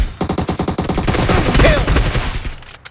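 Rapid automatic gunfire from PUBG Mobile, a dense burst of about a dozen close, loud shots in quick rhythm that blends into a sustained roar before fading.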